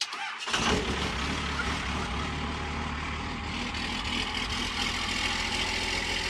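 An old junk truck engine cranks and catches, then settles into a loud, rough, rumbling idle close by, with no talking.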